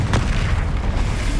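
A Bombarda blasting spell from the Hogwarts Legacy video game detonates as a loud, deep boom with a rolling low rumble that sustains for over a second.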